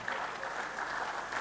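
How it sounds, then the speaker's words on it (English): Audience applause for Engineer Amana, a senior man honored at an annual lecture and fellows' induction ceremony, heard as a steady, even wash of clapping at moderate distance. "Can you clap for Engineer Amana,"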